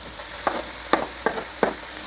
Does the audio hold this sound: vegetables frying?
yes